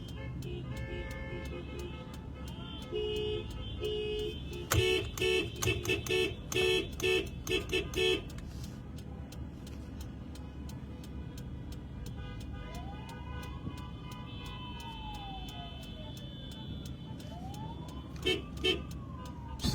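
Police sirens wail at a distance in a US street protest setting, rising and falling sweeps over steady crowd and traffic noise, with a burst of horn-like tones partway through.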